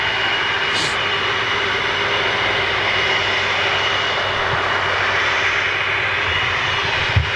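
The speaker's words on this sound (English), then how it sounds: "you've got a very rare aircraft coming in" An Ilyushin jet airliner's engines roar steadily at Manchester Airport, a loud, continuous whine and rush that holds level without a break.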